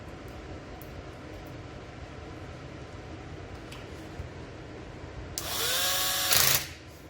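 Near the end, a power screwdriver briefly whirs for about a second as it drives a screw into a copier drum unit, following quiet background noise with faint clicks.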